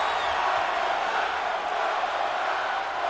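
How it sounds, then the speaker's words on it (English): Wrestling arena audience at a pro wrestling show chanting and roaring, a dense steady crowd wash filling the space throughout, loud and continuous with no clear breaks. "The audience now chanting one more time."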